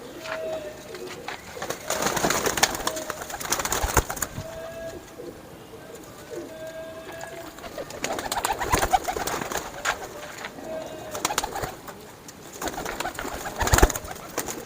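Racing pigeons, a champion pair kept by a breeder, cooing in repeated soft throaty phrases close by, with low background noise and brief murmurs of people talking.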